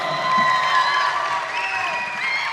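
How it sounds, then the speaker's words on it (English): Audience applause and cheering at a live event with a voice actor on stage, a dense crowd wash with shouts mixed in, steady and fairly loud throughout. "Big round of applause for Bryce Papenbrook."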